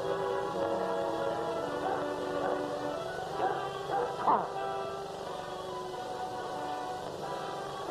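Dog following a trail with a posse of lawmen in a classic western chase, giving a few soft yips and whimpering barks that sit in the middle distance over a steady background of outdoor ambience and music.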